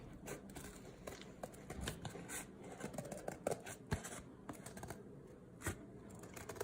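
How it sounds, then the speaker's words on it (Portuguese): Scissors cutting recycled material along a marked line, a series of soft, irregular snips and crisp rustles close by, fairly quiet with small scrapes between cuts. "Vamos cortar aqui, ó, onde a gente marcou."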